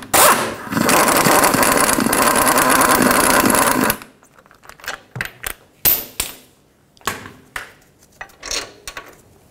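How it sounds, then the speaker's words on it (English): A 21 mm socket on a power tool spins off the caliper bracket bolts on a 2007-2017 Ford Expedition, a loud, continuous buzzing rattle for about four seconds followed by scattered, short metallic clicks and clanks. "remove the caliper bracket bolts."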